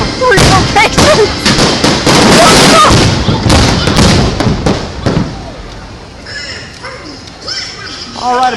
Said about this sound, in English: Fireworks fired up from 3 locations!